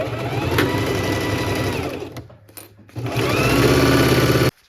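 A sewing machine stitches a reusable bag at a 2.5 stitch length, a loud, close, rapid whirring hum that runs, pauses briefly, then resumes at full speed before stopping abruptly.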